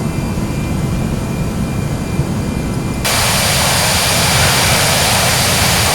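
British Airways airliner jet engines at takeoff thrust during climb-out from Dublin, a loud, steady roar filling the cabin that abruptly shifts to a brighter, broader hiss partway through, with no voices.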